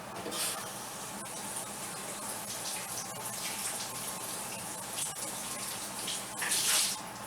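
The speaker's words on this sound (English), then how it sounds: "And I like to rinse my onions off." Tap water runs steadily as onions are rinsed under it in a kitchen sink, a close, moderately quiet splashing rush with small shifts as the onions move through the stream.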